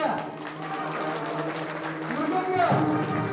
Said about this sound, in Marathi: पहिल्यांदा जोरात टाळ्या वाजल्या जोरात टाळ्या